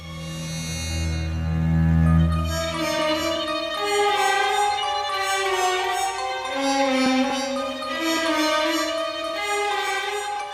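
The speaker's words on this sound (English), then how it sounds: "It's called the Dies Irae, Day of Wrath in Latin." The medieval Dies Irae requiem chant melody plays as sustained, slow-moving tones with rich harmonics, one long low note at the start and then a stepwise phrase, loud and continuous with no talking.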